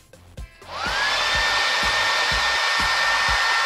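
A Gama Ion rotating hot air hair brush clicks on and settles into a steady, loud, close-up blowing whoosh with a faint rising whine, while a soft rhythmic ticking from the rotating head repeats under it.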